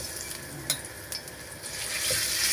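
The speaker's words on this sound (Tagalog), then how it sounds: "Haluin natin na mabuti." Meat sizzles in hot oil in a pan while a utensil stirs it, with a couple of sharp scrapes standing out over a constant hiss that grows slightly louder toward the end.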